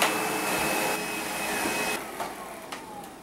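Loud, continuous whine of a vacuum cleaner working close by over a hotel bed area, steady throughout with small shifts in pitch and brief bumps as the nozzle moves.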